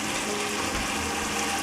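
Tomato paste water pours steadily from a small can into a large pot of pasta sauce, a close continuous gushing splash.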